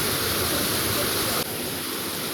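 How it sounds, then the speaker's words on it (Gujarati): Water pouring down a waterfall in the green Girnar forest near the Jatashankar temple, a dense, steady rushing roar, close and loud throughout with no voices. "ઉપરથી પાણી આવે આખું જોઈ લો."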